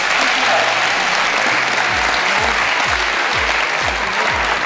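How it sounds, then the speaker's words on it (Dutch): Sustained applause from an audience at a trainee competition event, dense clapping throughout, loud and close, with a few low thumps underneath. "Jongens, applaus voor Pieter!"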